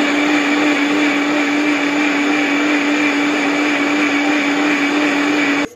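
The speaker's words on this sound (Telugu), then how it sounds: "ఇప్పుడు మిక్సీ పట్టండి నున్నగా" A kitchen mixie grinds banana, strawberry and milk into a milkshake, a loud, steady high-speed whir that runs without pause and cuts off abruptly at the very end.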